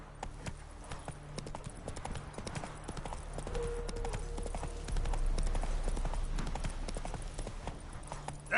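The horse Roach gallops in The Witcher 3 with steady, rhythmic clip-clop hoofbeats that continue throughout under a faint low tonal background.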